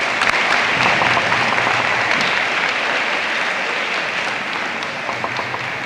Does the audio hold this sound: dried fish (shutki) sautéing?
no